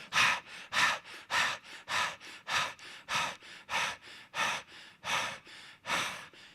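A man breathing heavily and rapidly to imitate panting at Everest altitude, about a dozen loud, close, rhythmic gasping breaths in steady succession.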